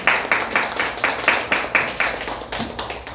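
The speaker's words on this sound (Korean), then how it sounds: "강강홍 집사님 박수 부탁드립니다." Church congregation at a Sunday service clapping to welcome a newcomer, a steady rhythmic run of hand claps at an even pace, moderately loud and close, with no talking over it.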